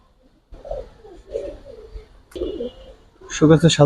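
Giribaz pigeons coo in short, low, throaty bursts at close range, with someone talking among the calls.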